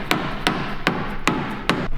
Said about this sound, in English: Get the mallet and give that a couple of whacks up.